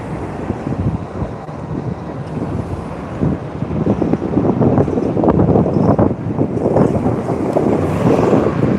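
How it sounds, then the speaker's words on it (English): Chilly wind buffeting the microphone outdoors near bike lanes, a continuous low rumbling roar that swells louder in the second half, with no talk. "Ready to be out of this chilly wind."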